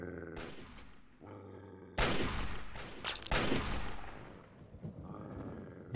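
Hunting shotgun blasts in Fallout 3, several heavy, sharp booms spaced irregularly, loud and close, each with a brief echoing tail and other combat noise between them.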